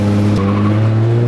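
A Nissan 350Z running nitrous accelerates hard with a loud, steady engine roar and screeching tire squeal, close and continuous with no voices.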